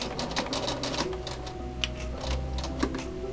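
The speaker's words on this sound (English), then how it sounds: "I'm going to go back a few stitches." A domestic sewing machine sews a few reverse stitches on a shirt seam, a steady rapid mechanical clatter of needle strokes running continuously and close by, with no voices.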